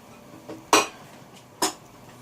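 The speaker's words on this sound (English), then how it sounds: "I'm going to be adding these onions that I've already nicely chopped" Chopped onions go into a soup maker for tomato soup with two distinct clinks, like a spoon knocking against the container, over a quiet background.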